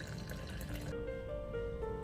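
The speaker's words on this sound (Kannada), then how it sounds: "ನಾನಿಲ್ಲಿ ಒಂದು 3/4 ಕಪ್ ನೀರು ಹಾಕ್ತಾ ಇದ್ದೀನಿ." Three-quarters of a cup of water is poured into a container for an oats banana smoothie, a short light trickle with a faintly rising filling tone.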